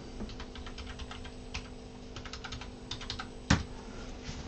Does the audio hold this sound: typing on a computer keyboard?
yes